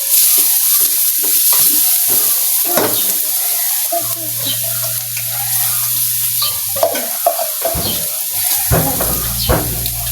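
Shrimp frying in butter with garlic crackle loudly and continuously in a pan, broken by frequent scraping stirs and clinks of a utensil. A low steady hum joins partway through.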